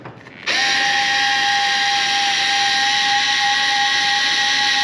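A power drill runs steadily while tightening nuts during installation of a CTS-V conversion kit on a Cadillac CTS-V Sport, starting abruptly and holding a continuous high whine with hiss for several seconds, close and loud.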